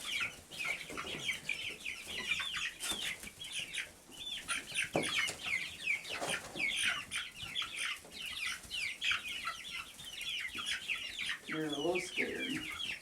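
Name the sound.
chickens and roosters clucking while eating cicadas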